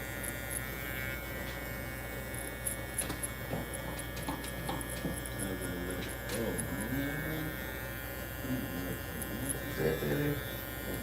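An Andis Exo II electric trimmer buzzing steadily as it cuts hair, a constant close motor whine with faint clicks, while someone talks intermittently over it.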